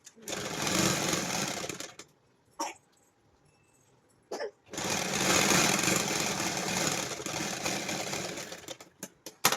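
A sewing machine stitches a pant pocket in long, loud runs of fast rattling, broken by a quiet pause with brief bursts before the machine starts up again.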